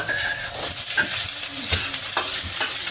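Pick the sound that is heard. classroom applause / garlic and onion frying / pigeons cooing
garlic and onion frying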